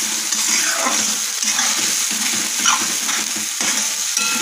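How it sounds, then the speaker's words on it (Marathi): Spice masala frying in oil for a rohu fish curry, a steady close sizzle with repeated stirring scrapes across the pan, no talk. "मसाला आपण छान तेलामध्ये तळून घेऊ।"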